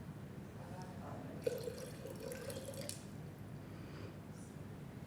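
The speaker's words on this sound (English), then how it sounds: "I'm going to pour a little bit of water for us." Water poured from a vessel during a church service, a soft, faint trickle lasting under two seconds against a quiet room.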